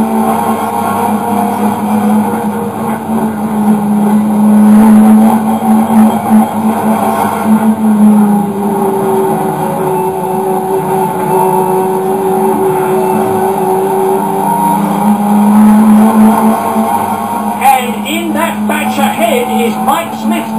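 A 1980s British Touring Car Championship car, BMW-era, at racing speed, with a loud, continuous engine drone rising and falling through gears, and a commentator's voice audible over parts of it.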